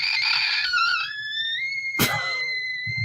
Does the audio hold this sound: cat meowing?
no